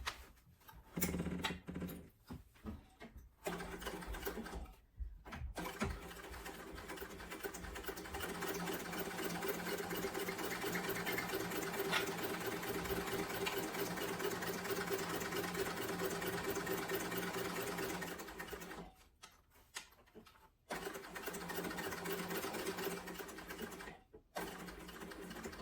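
A sewing machine stitches a sling bag seam along the edge, running in a long, steady, close whirring stretch with a few short bursts and pauses at the start and end.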